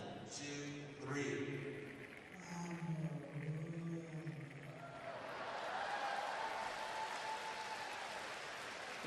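Curling arena crowd cheering and clapping during in-house entertainment at a men's world championship playoff between Scotland and Sweden, a broad wash of noise swelling in the second half after a commentator's voice.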